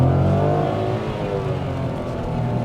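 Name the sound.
Nissan Magnite AMT car accelerating at full throttle from standstill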